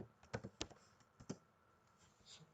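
Keystrokes on a computer keyboard, a few quiet separate clicks in an irregular burst, faint and close with no talking.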